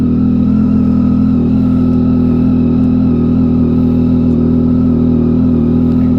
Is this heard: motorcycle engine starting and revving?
yes